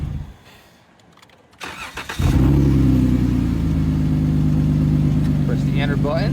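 A car engine cranks and starts after a quiet pause, then settles into a steady, loud idle, with a voice speaking over it.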